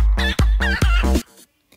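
Video game chickens from a chicken addon cluck in a quick burst of four or five loud, close squawks, then stop abruptly.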